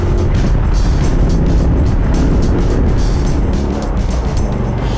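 A BMW Z8 drives along with a steady, loud rush of engine and road noise that holds constant throughout, with no voices.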